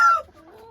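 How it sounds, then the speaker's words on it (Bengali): Brahma hen, slightly sick and recovering, gives a short cluck at close range, a bright burst followed by a softer trailing note, with no voices. "আপাতত আমার একটা ব্রাহ্মা মুরগি আছে"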